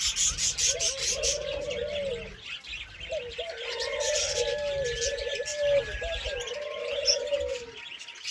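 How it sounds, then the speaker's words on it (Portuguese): Barbary doves in an aviary give repeated soft rolling coos in two clear bouts, with faint chirps from other birds behind them. "Esse é um viveiro que a gente cria pomba burguesa"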